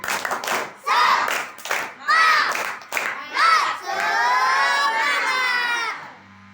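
A group of children at a madrasah clap and shout together in a rhythmic chant, bursts of voices and claps in a pattern ending in a long sustained cheer.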